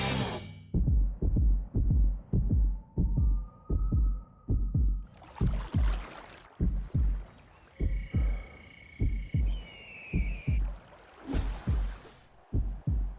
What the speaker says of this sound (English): They say the perfect resting heartbeat